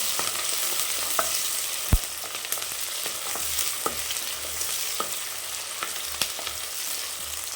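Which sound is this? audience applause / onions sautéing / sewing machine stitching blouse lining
onions sautéing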